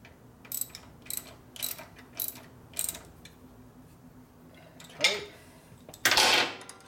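A torque wrench ratchets on a bolt of a 1973 Harley-Davidson 74ci shovelhead engine in a bobber build, giving five short clicking bursts in a steady rhythm and then two louder, longer ratchet runs, close and without talking.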